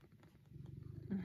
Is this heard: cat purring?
yes